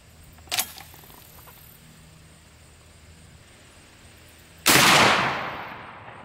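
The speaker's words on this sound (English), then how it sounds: "I'm just going to shoot it just to see if it's flying straight or tumbles or what it does." A single loud smooth-bore gunshot firing an expanding copper slug at a cardboard target outdoors, preceded by a faint click, with a long rolling echo afterward.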